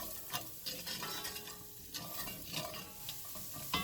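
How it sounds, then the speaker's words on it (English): Salted onions sauté in a pan for a Mexican pork and squash dish, a faint close sizzle with repeated scraping stirs of a utensil against the pan, and no talking. "now I'm just going to saute these until they are softened and translucent"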